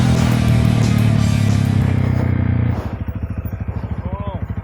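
A Honda CRF300L dirt bike with an XR301 big bore kit revs hard and loud up close during wheelies, then drops to a steady, lumpy idle thump.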